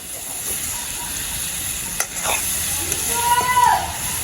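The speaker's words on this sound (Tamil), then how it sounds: "வெங்காயம் எல்லாம் நல்லபடி வதங்குவோம்" Onions sautéing in a pan make a steady, moderate sizzle, with a sharp clink and stirring scrapes midway and a voice speaking briefly toward the end.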